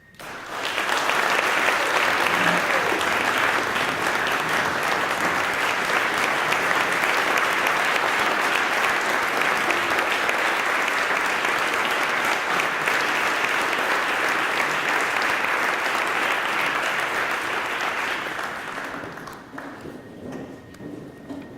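A large audience at a fire department annual recognition and awards meeting applauds its award winners in one long, loud, dense ovation that holds steady for nearly twenty seconds before tapering off at the end.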